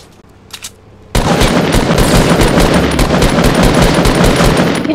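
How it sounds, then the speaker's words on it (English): Gunfire erupts in the Fortnite battle royale video game, a dense, loud burst of rapid automatic shots after a quiet second with a few faint sounds, continuing steadily to the end with no talk. "Why are you shooting me?"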